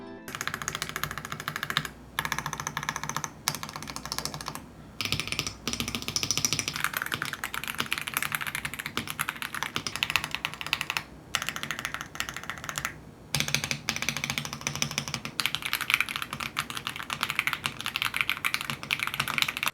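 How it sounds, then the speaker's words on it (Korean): Steady, continuous typing on a mechanical keyboard with linear switches, with rapid clicks and clacks in bursts and a few brief pauses, close up and fairly loud. "타건 소리 잠깐 들려드릴게요"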